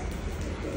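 Pigeons make a brief, soft cooing sound indoors at home, heard close and alone for under a second.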